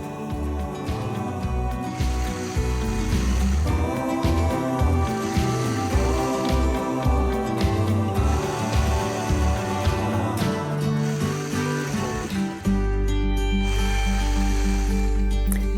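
A sewing machine stitching straight lines through a quilt block, a close, rapid mechanical rattle of needle strokes in steady bursts, with a shift to a lower hum near the end.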